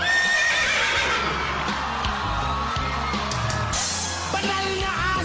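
A loud, drawn-out horse-like neigh with wavering pitch, a voice imitating a whinny, over a dense, noisy background.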